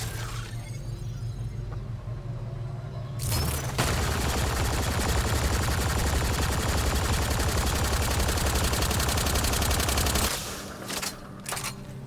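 Automatic weapons fire in the sci-fi game Mass Effect: Andromeda, a sustained burst of rapid gunfire lasting several seconds, with brief rumbling and clatter before and after.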